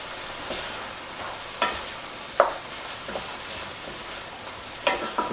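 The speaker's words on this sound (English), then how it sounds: "Just mix that all the way up." A spoon stirs a seasoned biryani mixture in a sizzling pan, soft frying hiss under a handful of sharp scraping knocks spaced irregularly, close and fairly quiet.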